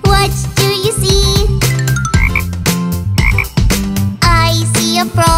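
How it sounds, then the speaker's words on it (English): Loud, rhythmic frog croaks repeat in quick bursts against a bright nursery-song backing, close and prominent throughout. "I see a frog. Ribbit, ribbit, ribbit."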